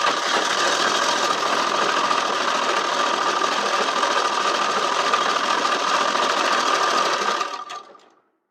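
Sewing machine running steadily while stitching a suit kurti, a loud continuous close-up whir that holds for about seven seconds and then winds down and stops.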